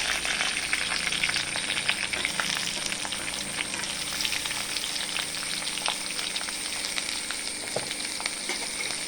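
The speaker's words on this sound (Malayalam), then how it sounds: "നന്നായിട്ടൊന്ന് വഴന്ന് വരുന്നവരെ ഒന്ന് ഇളക്കി കൊടുക്കാം." Onion, curry leaves, ginger and garlic sautéing in oil while being stirred, a dense continuous sizzle with frequent small crackles and pops, close and steady throughout.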